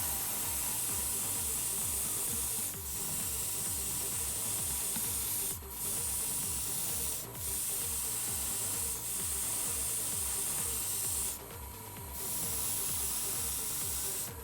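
Airbrush spraying Tamiya acrylic primer onto Gundam model parts, a continuous close hiss with a few brief breaks and a faint mechanical hum underneath, no talking.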